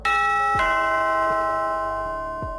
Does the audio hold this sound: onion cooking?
no